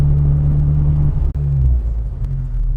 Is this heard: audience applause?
no